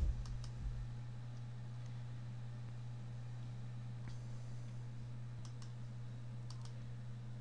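Computer mouse clicks on a PC during Windows disk partitioning, a few faint, sparse taps over a steady low hum, with no voices.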